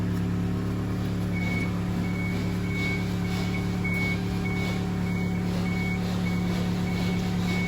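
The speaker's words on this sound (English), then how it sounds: "So it's a lift coming out." A wheelchair lift on a 2012 Toyota Hiace Welcab van gives steady, evenly spaced electronic beeps as it extends, over a constant hum of the lift motor and idling vehicle.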